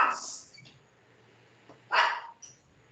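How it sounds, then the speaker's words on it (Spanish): A dog barks in the room during a talk on modern Dominican architecture: one sharp bark at the start, then a second loud bark about two seconds later, with a short yip after it, all close by and without speech. "¿El perro de Joan o es el perro de Liz?"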